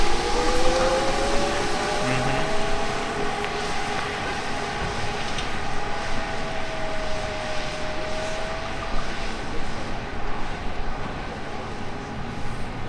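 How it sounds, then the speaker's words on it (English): Yellowstone T.E.D.D.Y. electric shuttle driving past outdoors, a steady broad rolling hum and whine lasting throughout at moderate loudness, with a faint tonal sweep rising then fading midway and no voices. "So you can hear right there that they are a little bit noisy on the outside."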